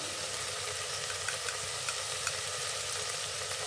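Mint and coriander leaves frying in a hot pan for khushka plain biryani, a steady dense sizzle with faint stirring clicks, close and continuous with no talking.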